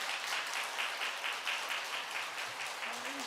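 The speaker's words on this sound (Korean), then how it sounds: "여러분들 한번 박수로 격려해 주시면 좋겠습니다." A church congregation applauds in encouragement with sustained, dense clapping that carries evenly through the stretch, and a brief voice is heard near the end.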